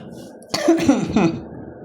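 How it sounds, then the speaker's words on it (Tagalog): A single close, rough cough burst breaks a quiet background, trailing off in a couple of throaty follow-up hacks. "Pasensya sa mga ubo-ubo na."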